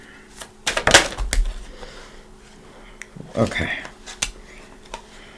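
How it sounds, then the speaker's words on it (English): Tarot cards are shuffled in quick, crisp riffling bursts and light snaps close by, with a dense flurry early on and scattered clicks afterward. "I just shuffle and meditate on your sign."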